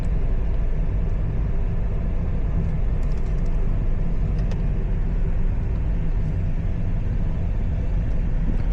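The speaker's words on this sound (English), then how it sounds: "A beautiful black BMW is passing in front of us." Black BMW car passing on Olaya Street in Riyadh, heard from inside a moving Changan Eado 2023 as a continuous loud traffic rumble and road roar with no clear separate pass-by.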